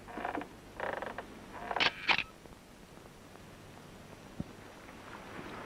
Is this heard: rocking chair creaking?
yes